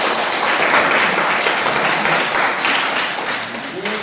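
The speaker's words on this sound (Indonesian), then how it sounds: "Oke, tepuk tangan." Classroom applause from students after a physics presentation on springs, dense continuous clapping that tapers slightly toward the end.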